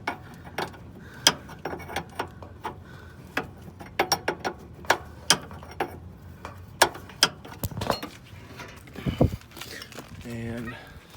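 A 14 mm wrench turns the tie rod adjuster on a Honda Civic with a run of close, sharp ratcheting clicks in irregular bursts; a voice sounds briefly near the end.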